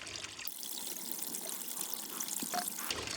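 Water trickles steadily down through a hand-pressed hiking water filter, a soft continuous pouring hiss that stays even throughout and holds up alone without any talk.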